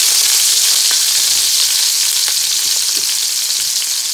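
Garlic and lemongrass sauteing in a hot skillet give a steady, bright sizzle throughout, with a few faint clicks of stirring and no voices.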